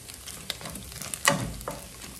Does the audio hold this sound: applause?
no